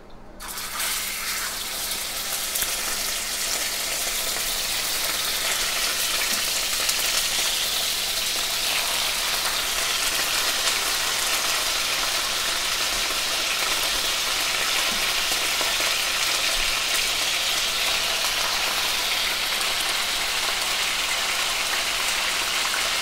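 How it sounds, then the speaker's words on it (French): Steady, even sizzling hiss of beef and onions frying in a hot saucepan, continuous and moderately loud with no talking. "je vais revenir l'ensemble avec les oignons dans la casserole"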